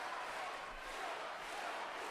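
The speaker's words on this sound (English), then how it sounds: "The crowd really trying to lift Szatmári here." Steady crowd noise filling an arena at the men's sabre fencing final of the 2019 World Championships in Budapest, a continuous wash of cheering and voices with no distinct breaks.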